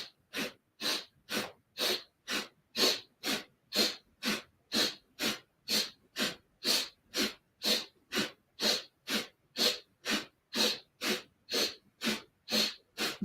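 Forceful rhythmic yoga breathing, with sharp nasal breaths repeating at an even pace of roughly two per second for the whole stretch, close and clear with no talking.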